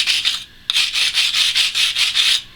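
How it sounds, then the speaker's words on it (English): A stainless steel wire brush scrubs aluminum diamond plate in brisk back-and-forth strokes, loud and close, with a brief pause before eight more rhythmic scrubs. "brush the area that's going to be welded"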